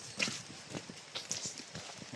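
Hooves of a working horse clip-clopping in a soft, uneven rhythm of scattered steps, faint and close-miked against quiet surroundings.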